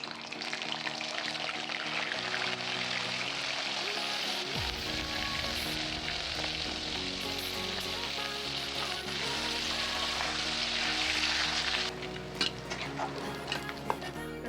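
Mustard seeds, cumin, dried red chillies, garlic and curry leaves sizzle loudly in hot oil for a dried fish fry, a steady dense crackle with a sharp burst as spices hit the pan, continuing throughout without talk.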